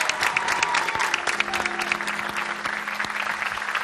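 A studio audience on Rachid Show cheers and claps for the Moroccan pop singer Aminux, with loud, sustained clapping and scattered whistles and shouts carrying over a steady sustained tone.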